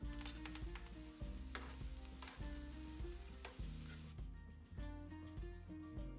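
Curry leaves and onions sizzle steadily in hot oil for a Nellore-style fish curry, a close, continuous frying crackle with a low pan hum and no talk.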